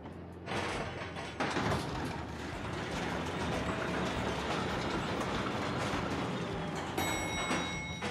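A train rolls along in Paper Mario The Thousand Year Door, a dense, continuous rumble of wheels and carriages with rattling clatter, ending in a few short chime-like tones.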